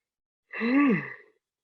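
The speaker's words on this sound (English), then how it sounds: "There's no yawning on this podcast." One drawn-out yawn, a breathy voiced sound that rises and falls in pitch for under a second, close and clear against silence.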